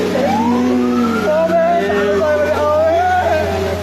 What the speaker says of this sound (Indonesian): sopir ambulans itu nekat seberangi sungai sembari menghidupkan sirine